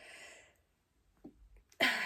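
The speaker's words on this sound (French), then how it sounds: "J'ai envie d'éternuer." A faint murmur and short breath intake in near silence, then one sudden, sharp sneeze bursting out close by.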